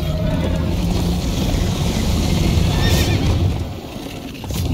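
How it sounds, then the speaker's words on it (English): A horse in the Minecraft Story Mode video game, with loud, close galloping hooves and rumble and a high whinny partway through, the noise easing toward the end. "First time on a horse here!"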